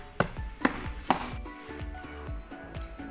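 Jaggery being broken into pieces in a kitchen, with several sharp knocks and cracks followed by a quicker run of lighter taps, close and dry, with no talk.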